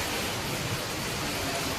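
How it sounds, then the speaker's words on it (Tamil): Heavy rain and wind in Pondicherry during the monsoon, a dense steady broadband roar of downpour that fills the whole stretch evenly and loudly, with no talk over it. "எங்க வீட்டுலலாம் பாருங்க எவ்வளோ மழை பெய்யுது"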